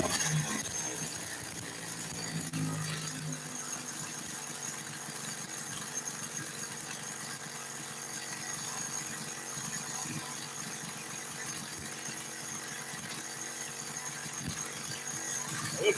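Small motor running steadily while it pumps gas in a shop, a continuous buzzing, whining hum with faint rattles that holds an even level throughout and has no talking over it.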